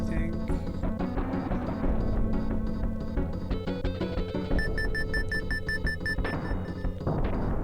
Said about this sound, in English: So the beeping precedes the multi-volley